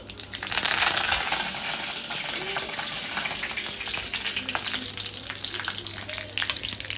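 Mustard seeds, cumin and curry leaves hit hot oil in a pan and set off a loud, close, continuous sizzle peppered with rapid crackles and pops that lasts throughout.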